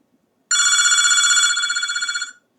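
A telephone rings in one continuous bright electronic trill lasting about two seconds, loud and close in a quiet room, with no talking over it.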